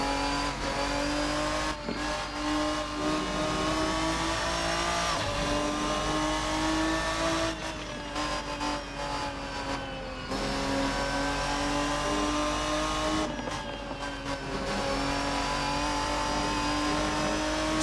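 Ferruccio 57 GT car in a racing game, a loud, close engine revving through repeated rising gear pulls with brief drops at shifts, running continuously with no talk.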